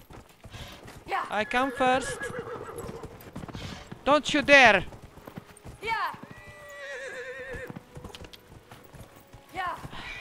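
Horse hooves clip-clop in the video game Dragon Age: Inquisition while a horse neighs and whinnies several times, loud and close, with someone talking over the top.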